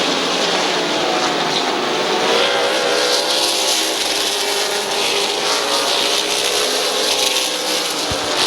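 Stock cars race at Midvale Speedway, their engines making a steady, loud, close roar that never lets up, with no voices.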